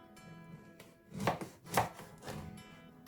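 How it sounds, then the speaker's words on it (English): A knife, not a bread knife, cuts through a loaf of sourdough bread, making two firm crunchy strokes followed by a softer third pass, close and quiet with no talking. "I'm using this sourdough bread. You can use this bread or normal bread, whatever you like. It's up to you. We'll just slice this."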